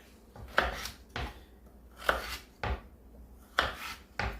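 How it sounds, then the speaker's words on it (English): A kitchen knife chops carrots on a cutting board at home, a slow series of about six distinct thuds, each knock landing crisply against the board, close and moderately loud with no talking. "It's kind of tricky cutting carrots without them rolling everywhere."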